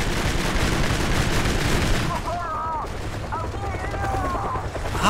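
Enemy gunfire in the shooter Kane & Lynch: Dead Men, a dense, continuous rattle of shots that eases slightly midway while a voice talks over it, then builds again.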